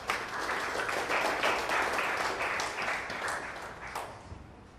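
Applause from an audience at a school event for SCKL, a steady, dense wash of clapping lasting throughout and tapering slightly toward the end, with no talk over it.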